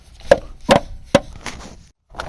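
An oil pan comes loose from the engine of a 1997 Honda Civic with a rod knock, giving three sharp, close knocks in quick succession, a softer fourth, a short silence, then a final muffled thud.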